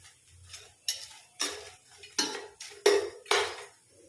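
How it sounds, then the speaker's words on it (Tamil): Cashews and garam masala frying in a pan, with a soft sizzle beneath about seven distinct scraping spoon stirs against the metal, close up and without any talking. "முந்திரியை லைட்டாக ஃப்ரை ஆகட்டும்."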